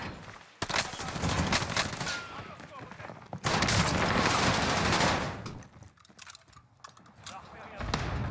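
Bursts of gunfire from a JOKR match, dense rattling volleys in two long stretches broken by a short gap, with a quieter spell of scattered shots near the end.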